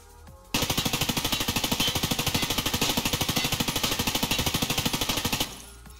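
Sustained full-auto burst from an M4 rifle in the game Escape From Tarkov, a rapid, evenly spaced stream of loud gunshots lasting about five seconds with no voices.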